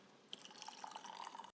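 Tea poured from a tilted gaiwan lidded bowl, a soft, faint trickle of liquid running steadily for just over a second before stopping abruptly.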